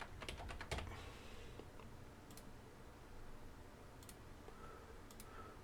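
Quiet, irregular clicking of keys on a computer keyboard, a few quick bursts of typing with short pauses between, close by and faint.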